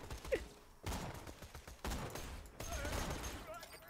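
Borderlands 2 gunfire bursts out in loud, dense volleys of repeated shots, with three sustained stretches of firing separated by brief gaps, and no talking over it.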